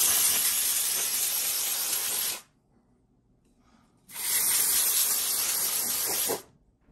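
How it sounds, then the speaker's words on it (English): Two loud, close hissing bursts of spray, isopropyl alcohol and contact cleaner on a Ms. Pac-Man arcade board, each lasting about two seconds with a short silent gap between them. "I'll just use some isopropyl alcohol and then hit it with a contact cleaner"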